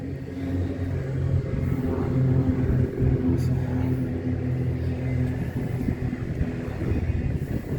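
Car engine rumbling steadily and close at an outdoor car show at the Parry Sound airport, Ontario, a continuous low drone with slight swells, no distinct revs, and faint voices in the background.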